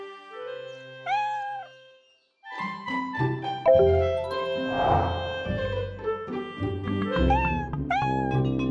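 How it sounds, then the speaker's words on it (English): A cartoon kitten meows several times, high rising-and-falling cries mixed over a busy, bright musical background. "The kitten is meowing."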